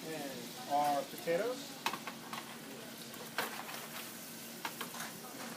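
Corn is stirred into a clam and corn chowder pot with bacon and white wine, soft sizzling under scraping spoon strokes and a few clinks against the pot, close but fairly quiet, with brief speech-like tones at the start.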